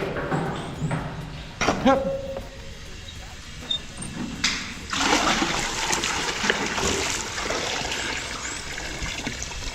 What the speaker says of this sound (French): Water is coming, water is coming.